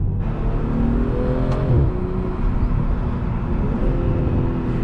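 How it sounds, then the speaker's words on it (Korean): A 2020 BMW M340i sports sedan's exhaust in sport mode droning steadily, its note swelling briefly as the engine revs, heard close and continuous. "이거를 스포츠 모드에 놓으면 사운드 자체가 배기 사운드가 많이 달라져요"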